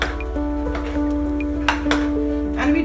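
Dhansak being stirred and mixed in a pressure cooker over a medium gas flame, with close metallic scraping and clinks of a spoon against the pot over a low steady cooking hum.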